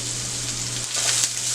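Chopped onion fries in hot oil with cumin, mustard seeds and curry leaves in a pan, a steady close sizzling hiss with a low electrical hum underneath.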